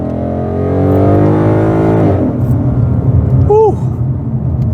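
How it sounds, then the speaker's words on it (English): A Ford Mustang GT engine revs hard on an interstate, a loud rising harmonic growl that climbs then drops into a raspy rumble, with a brief voice cutting in near the end. "I like the more raspy Mustang sound"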